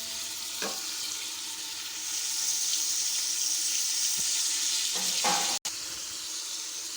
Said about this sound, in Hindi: अदरक लहसुन का पेस्ट और टमाटर ऐड करके हम इसको अच्छे से भून लेते हैं